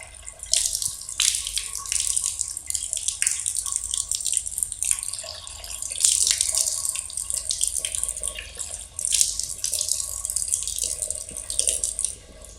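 Tap water runs steadily into a sink while the face is washed for wudu, a continuous close splashing hiss with small drips and hand splashes and no talking.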